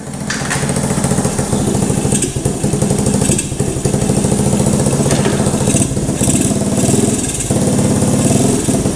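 An old abandoned Honda three-wheeler's engine tries to start in a field, a loud close mechanical chugging and rattling that surges, stumbles and picks up again in uneven bursts, with no talk.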